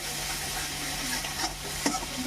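Fish frying in oil being stirred in a pan, a steady close hiss with a few brief scraping clicks of the stirring near the end, no voices.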